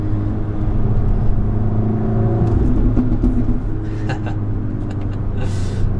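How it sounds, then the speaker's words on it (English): A car with a cut-open, modified exhaust revs and drones steadily with a deep, loud growl, heard from inside the cabin, while voices talk over the engine throughout. "We wanted to open up the tone of the exhaust."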